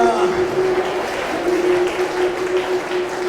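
A congregation at a Malayalam Christian growth retreat claps hands in praise, a steady dense patter running through the whole stretch beneath a sustained voice.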